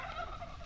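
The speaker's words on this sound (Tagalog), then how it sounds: "Hindi pato nga. Pabo." A turkey gobbles in a short, close, rapid rattling call, one of many farm animals kept together.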